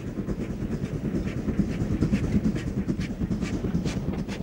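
GWR steam tank locomotive Goliath, preserved on the Torbay and Dartmouth Railway in Devon, working along with a steady rhythmic clatter of wheels and chuffing, moderately loud and continuous with no voices.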